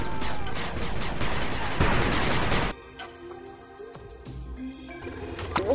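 Rapid, dense gunfire from a machine gun turret in the 8-Bit Armies strategy game, loud and sustained for almost three seconds, then dropping to lighter scattered shots and game effects.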